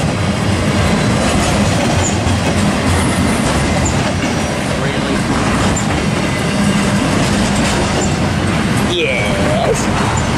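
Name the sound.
BNSF stack freight train passing, Tehachapi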